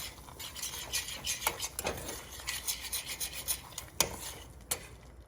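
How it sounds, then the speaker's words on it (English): A utensil scraping and rubbing against a bowl in a steady, repeated rhythm while mixing a crispy tofu mixture, close up, with a few sharper clinks along the way. "we're going to give it a mix"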